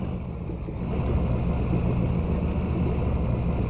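A heavy mine train's engine in a driving video game, set in Australia, shifting up into fourth gear: a steady, loud low rumble that swells slightly early on, then holds an even drone with no voices.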